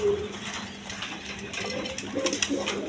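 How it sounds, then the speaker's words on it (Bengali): Pigeons, including a white pair, at a bird market, faint cooing and soft coos mixed with rustling and background chatter at low level. "এখানে এক পেয়ার হোয়াইট কালার রেশার কবুতর আছে"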